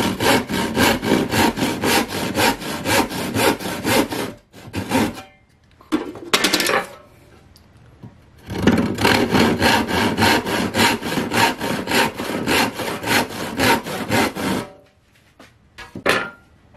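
A D-Explore hand saw with combination (universal) teeth cuts through wood in fast, steady rasping strokes, loud and close, pausing briefly twice before resuming.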